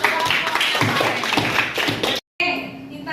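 Students applaud in a classroom during a social-emotional learning lesson, a busy sustained patter of many hands close by, mixed with children's voices, breaking off abruptly before talk resumes.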